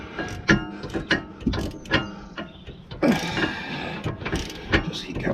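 A socket wrench ratcheting as it loosens tight rear brake carrier bolts on a 2017 Jaguar XE 2.0D, heard as a series of close, sharp clicks and metallic clunks in an irregular rhythm.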